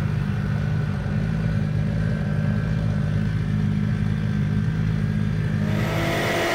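A Toyota Supra at a dragstrip rumbles with a loud, steady engine drone close by, with its pitch climbing slightly toward the end.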